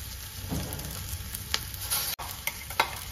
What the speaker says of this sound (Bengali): আমি এখন এর মধ্যে আদা রসুনের পেস্ট দিয়ে দিচ্ছি বেশি করে